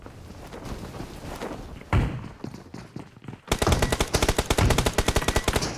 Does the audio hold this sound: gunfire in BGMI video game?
yes